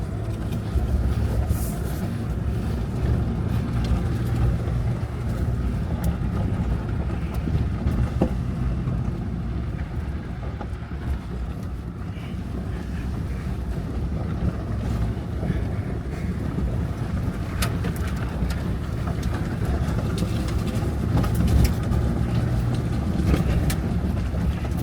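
Vehicle on Nexen HTX tires rolling along the unpaved Rocky Gap Road, a continuous low rumble of engine and road noise with wind buffeting, steady throughout with no talk.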